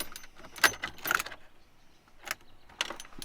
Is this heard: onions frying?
no